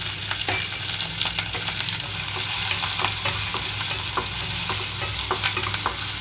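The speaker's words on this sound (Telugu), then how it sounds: "కొంచెం ఉల్లిపాయలు వేగే వరకు మూత పెట్టి ఉంచుతున్నాను" Continuous sizzle of onions, green chillies and curry leaves frying in a pan, with frequent stirring scrapes and small crackles, close and steady.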